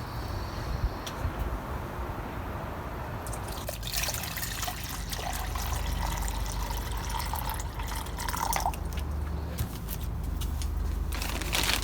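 Hot water from a hose pours and trickles into two cups for tie-dye preparation, a steady close liquid splash that grows fuller and louder partway through, with no talking.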